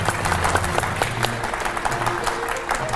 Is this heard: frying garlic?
no